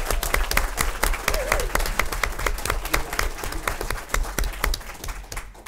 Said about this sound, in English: cheers and claps for Gary Arndt